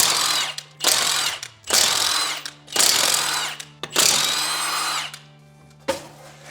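A large impact wrench loosens the wheel bolts on a BMW E36 in five loud, close bursts of rattling hammering, separated by short pauses.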